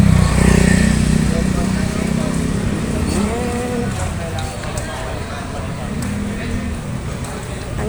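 Motorcycles and delivery vehicles pass along a busy Quiapo street, engines droning and whining at varying distances amid crowd noise and a person talking over the traffic.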